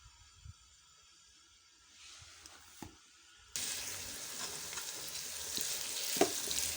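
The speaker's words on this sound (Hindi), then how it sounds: "प्याज़ों को हमने फ्राई करना है।" Chopped onions frying in a hot pan over a raised flame, a quiet start giving way to a steady, loud sizzle that builds and holds with small crackles throughout.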